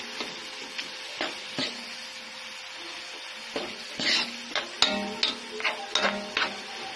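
Ground meat sautéing with crushed black pepper for spaghetti, a steady sizzle with scattered clicks and scrapes of a utensil stirring the pan, growing busier toward the end.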